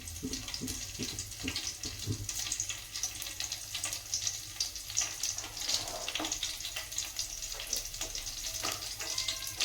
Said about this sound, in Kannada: ನಾನೊಂದು ಸ್ವಲ್ಪ ಕರಿಬೇವು ಹಾಕ್ತೀನಿ.